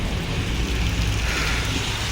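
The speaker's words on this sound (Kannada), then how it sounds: "ಯಾವ ರೇಂಜ್ ಮಳೆ ಹೋಗ್ತೈತೆ ಅಂತ" Heavy rain on a street near Haveri pours down steadily, a dense, loud, continuous wash with no breaks and no voices.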